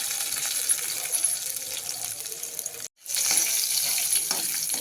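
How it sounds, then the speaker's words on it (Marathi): Cumin seeds and peeled garlic dropped into hot oil in a pan, giving a steady bright sizzle that cuts out briefly for a moment before resuming at full strength, close and continuous. "तेल आपलं तापलेलं आहे, त्यामध्ये आपण थोडे टाकू जिरं."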